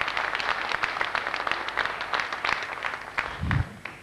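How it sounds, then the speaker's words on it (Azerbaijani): An audience at a 2004 mugham concert celebrating Hacibaba Huseynov's 85th birthday applauds in a dense, sustained patter of many hands. It stays loud throughout and dips slightly near the end. "Bir daha Sara xanım alqışlayın"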